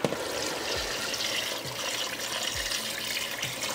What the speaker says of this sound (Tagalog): ilalagay natin madaming tubig kasi sabaw na ito